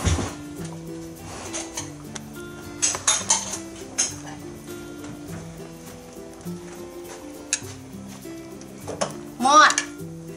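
Bamboo shoot and mushroom curry is ladled into a bowl with repeated clinks and scrapes of utensil against pot and dish, while people chat in the background.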